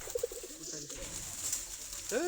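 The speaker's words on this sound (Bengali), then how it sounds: "আমাদের এই যে কবুতরগুলা খুবের কাছে এসে বসে রয়েছে" Deshi Giribaz pigeons perched close together on a very cold winter day in Gazipur give soft, low cooing notes, with a brief rising call near the end over faint background noise.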